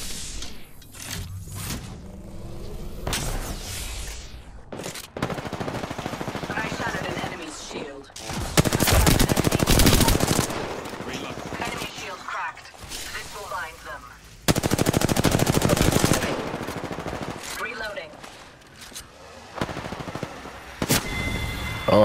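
Bursts of automatic gunfire in the shooter game Apex Legends, loud sustained volleys broken by quieter gaps with clicks and mechanical sounds, a voice talking now and then between the shots.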